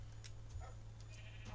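Sheep bleating in a video game: a few short, faint bleats rise over a constant low hum, spaced irregularly and without talk.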